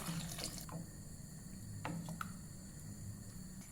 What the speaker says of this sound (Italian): e ora che tutto è ben insaporito aggiungo l'acqua.